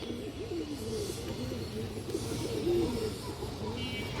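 Pigeons being sold, including a female bird, give soft, repeated cooing calls that come close and fairly quiet over a low background hum, with no talking.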